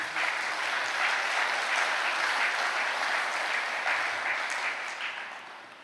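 A Catholic church congregation applauding with raised hands during a priest's sermon, a steady, full wash of clapping that holds evenly for several seconds and fades slightly at the end.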